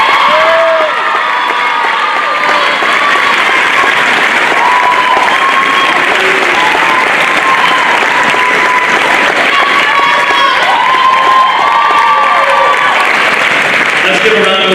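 Sustained crowd applause for award recipients at a 2021 high school class night ceremony, steady and dense throughout with scattered cheers and whoops mixed into the clapping.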